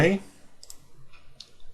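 A computer mouse double-clicks while a user works in Corel Draw: a quick pair of faint, crisp clicks, then another lone click. A brief burst of voice opens the moment, and the rest is near-silent.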